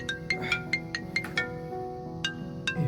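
A phone rings with an incoming call, a repeating electronic ringtone of short bright bursts in a quick rhythm, close and fairly loud with no talk.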